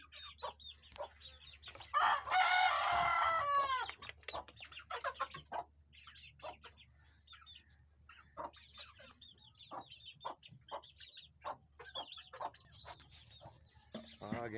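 Desi hens cluck close by in repeated short bursts and a rooster crows loudly once early on, with a low steady hum running underneath.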